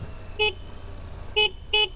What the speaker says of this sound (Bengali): হর্ন সিঙ্গেল হর্ন, এটাই স্বাভাবিক।